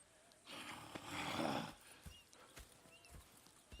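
Horses in the video game Red Dead Redemption 2 snort and shift nearby with scattered hoof clops over a soft background, fairly faint.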